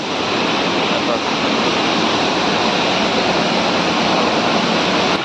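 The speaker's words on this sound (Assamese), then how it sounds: "ওপৰৰ পৰা পানী পৰিছে পানী কি মধুৰ শব্দ" Water crashes down over rocks at the Tengapani waterfall in a hilly picnic spot, a loud, close, steady roar filling the whole stretch without any break or talking.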